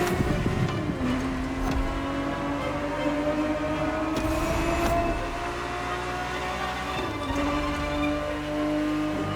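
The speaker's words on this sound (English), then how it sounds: "The Ferrari 365 GTB4 is the perfect vehicle for you to experience Ferrari racing as it felt back in the 70s" A Ferrari 365 GTB4 from the 1970s revs in the racing game The Crew Motorfest, its engine tone climbing through gear changes, loud and steady with no talk.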